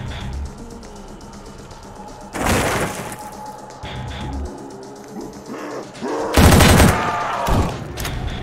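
Pistol fire in the zombie video game Recoil: two loud bursts of rapid game gunshots with booming impacts, set against a busy, noisy soundtrack of music and effects.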